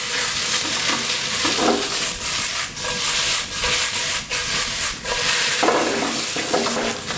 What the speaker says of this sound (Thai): เอาน้ำมันที่เปิดกระทะอยู่เล็กน้อยเนี่ยมาผัดเส้นนะครับ